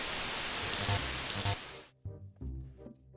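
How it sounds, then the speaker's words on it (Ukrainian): Harsh broadband static hiss fills the first two seconds with brief crackling bursts, then cuts out abruptly into a few faint, low thumps. "Що це таке? Якісь перешкоди? Хтось перехоплює сигнал?"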